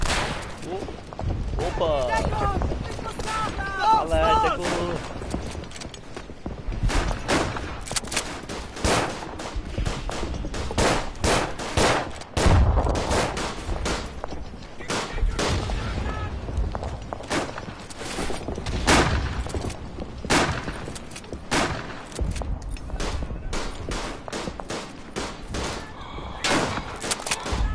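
Rapid volleys of rifle gunfire in the World War I shooter Verdun, sharp cracks repeating densely throughout at close and middle distance, with shouted voices mixed in.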